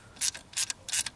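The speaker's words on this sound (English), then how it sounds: "I've got a deep well, quarter inch ratchet here. Pop that off." A quarter-inch deep well socket ratchet loosens a bolt on the glow plug relay of a 1996 Ford F-250 7.3L Powerstroke turbo diesel, giving three quick, close bursts of sharp clicking.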